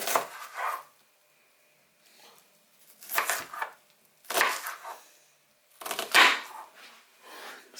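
An onion is cut on a board with a knife, producing four or five separate bursts of slicing and crunching, each about half a second to a second long, separated by quiet gaps.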